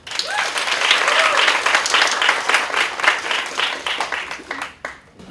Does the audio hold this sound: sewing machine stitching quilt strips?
no